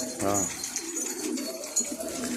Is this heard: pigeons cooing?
yes